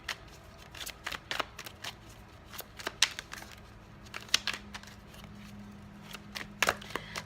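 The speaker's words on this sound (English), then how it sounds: "Just gonna shuffle a little bit here," Tarot cards are shuffled by hand in quick, crisp riffling bursts, close and fairly quiet, with short pauses between shuffles.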